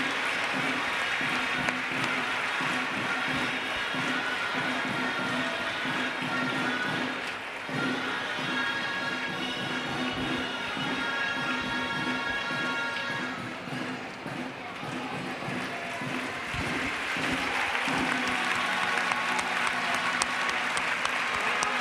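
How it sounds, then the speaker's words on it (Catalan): A crowd claps loudly and continuously at a Reus castellers human-tower display during a street festival, dense sustained applause that dips briefly midway and swells again toward the end. "Fort aplaudiment a aquest pilar de 4 dels xiquets de Reus."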